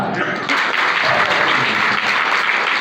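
Audience applause at a school annual results and prize distribution ceremony in Civil Lines, Jwala Devi: sustained, dense clapping from a crowd with a loud, steady level throughout, and a voice faintly heard beneath.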